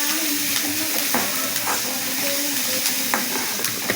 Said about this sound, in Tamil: நல்லா வதக்கிக்கோங்க ஃப்ரெண்ட்ஸ்